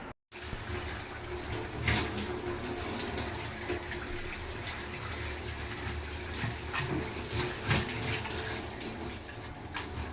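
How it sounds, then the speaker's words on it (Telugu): Water runs steadily from a tap, splashing and gurgling as bottles are rinsed, with occasional clinks and no one speaking. "బాటిల్స్ ఇట్లా రెండు మూడు రోజులకి ఒకసారి ఇలా కడుగుతానండి"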